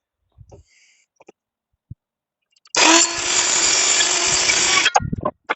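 A power saw cuts through a wood board held in a clamp, starting with a few faint clicks and taps and then giving a loud, steady two-second buzzing whine up close before it cuts off.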